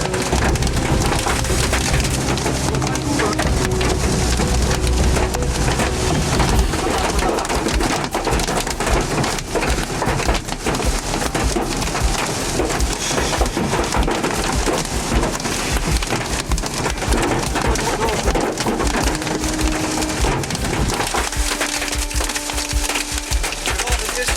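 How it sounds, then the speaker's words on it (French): Dense, steady drumming of hail on a car body, a constant hard patter filling the whole stretch with a low rumble underneath. "C'est juste de la grêle?"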